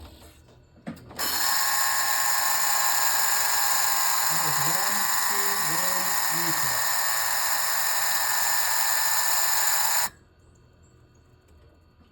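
A hydraulic power unit pump kicks on with a sudden, steady high mechanical whine, holds for about nine seconds while gears are shifted, then cuts off abruptly; faint voices murmur underneath.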